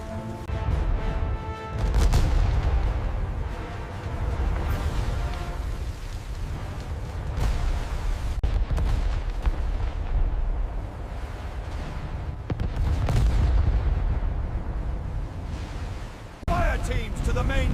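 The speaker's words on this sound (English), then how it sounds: "Brace for secondary explosion." Heavy, continuous rumbling blasts and crashing aboard a damaged warship taking on water, with dense low booms filling the scene and people shouting over the din throughout.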